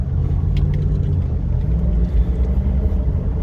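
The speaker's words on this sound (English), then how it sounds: "You see it shifts into second, then back to first, and then second again." A car with an automatic gearbox that has been slipping, its engine rumbling steadily while the transmission shifts between first and second, a close, continuous low drone with no clear break at each shift.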